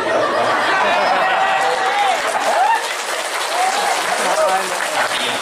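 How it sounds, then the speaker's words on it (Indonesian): An audience claps and applauds at a lively religious sermon event, dense sustained clapping with crowd chatter and some laughter mixed in throughout. "tapi itu ada tepuk tangan kan"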